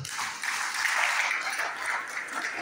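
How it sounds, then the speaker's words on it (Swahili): A church congregation claps and cheers in praise of Jesus, a dense wash of applause that stays fairly far off and continues steadily throughout. "Piga Bwana Yesu makofi mazuri."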